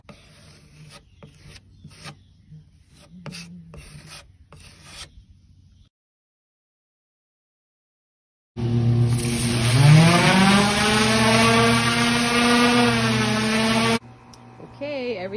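An old wooden hutch is power-sanded after faint, scattered handling noises and a silent pause. A loud, steady, rasping whine with shifting pitch runs close up for about five seconds, then cuts off.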